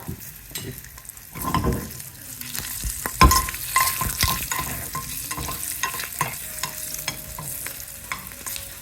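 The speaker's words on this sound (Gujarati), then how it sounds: "હિંગ સાથે આપણા ભરેલા મરચા કાઠિયાવાડી સ્ટાઇલના આપણે લઈ લેશું આપણા વઘારની અંદર" Stuffed Kathiyawadi-style green chillies go into a hot hing and mustard-seed tempering, sizzling close up with bursts of frying and scraping stirs in the pan.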